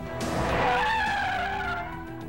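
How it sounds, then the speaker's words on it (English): A car skids through a J-turn on a driving course for evasive training. A loud, continuous tyre squeal with a wavering pitch rises and then fades over a couple of seconds, with no voices. "To quickly exit a dangerous situation, agents are taught a maneuver called a J-turn."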